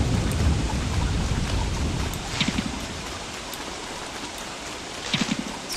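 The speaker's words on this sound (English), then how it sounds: "It's just brutal how much rain there is." Heavy spring rain in the video game Don't Starve, a dense steady roar of rainfall with faint thunder-like rumbles rising twice, no voices over it.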